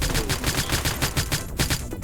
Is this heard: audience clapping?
no